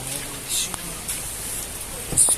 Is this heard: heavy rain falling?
yes